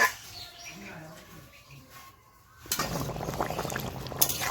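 Water boils hard in a pot of village-style chicken kosha, a dense bubbling roar that starts abruptly partway through after a stretch of quieter talk.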